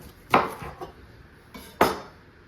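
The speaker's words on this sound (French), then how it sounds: "Ensuite, donc, les poivrons, très simple. On vient couper au milieu." A knife cuts bell peppers in half on a board, making two distinct sharp knocks about a second and a half apart, each followed by a softer tap.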